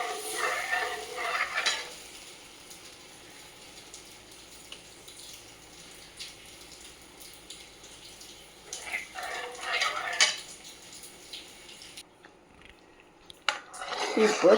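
Coconut sweet is stirred in ghee in a pan over low heat, giving a steady, soft scraping and sizzling, with louder stirring swells near the start, middle and end.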